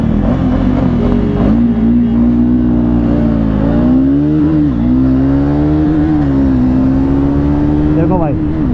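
Two motorcycles, a Triumph Speed 400 and a 2024 KTM Duke 390, run a drag race, their engines droning loud and close with rising revs and gear changes, overlaid by heavy wind buffeting.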